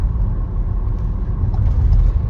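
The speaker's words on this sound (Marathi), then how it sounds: "हाय स्पीडच्या लाईनीमध्ये ट्रक चाललाय." Steady low rumble of road traffic on a highway, with a truck running in the high-speed lane nearby, a continuous engine-and-tyre drone with no talk.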